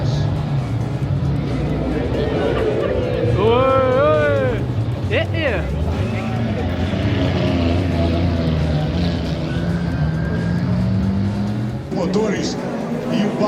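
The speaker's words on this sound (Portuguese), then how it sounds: "Motores e o barulho da galera a hora que eles vão passando com os carros" Endurance race cars roar past a live circuit on the opening lap, loud engine whines sweeping by near and far over a constant crowd murmur, with someone talking over it.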